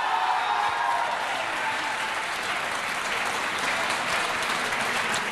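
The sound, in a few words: studio audience applause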